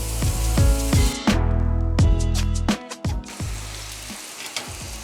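Smash burgers hit a Blackstone griddle and sizzle loudly, broken by repeated rhythmic metal scraping and clanking from a spatula pressing the patties, with the sizzle continuing more quietly between strokes.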